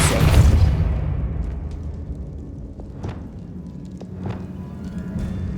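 A Depulso spell blast in Hogwarts Legacy lands as a heavy, booming burst right at the start, then rumbles away into a quieter, echoing space with a few faint thumps and clatters.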